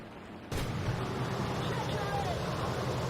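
Aircraft guns fire in War Thunder as a dense, continuous roar of rapid fire with engine rumble that begins abruptly and holds steady to the end.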